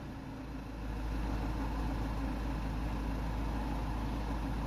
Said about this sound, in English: so we'll let it idle down now